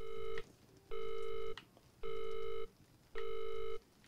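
Repeated telephone tone from a handset in the horror game Visage, four steady electronic bursts of about half a second each, separated by short gaps, clear and alone over a faint room hiss.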